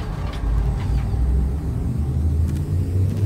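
Low, steady rumbling hum of an Anaconda ship's drive charging in the space game Elite: Dangerous, a continuous deep drone holding at even loudness throughout.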